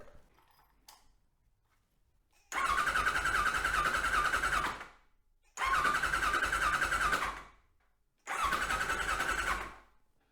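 A Kawasaki Concours ZG1000 motorcycle engine cranks over three times in separate bursts of a few seconds each, a steady whirring starter drone with brief quiet gaps between attempts.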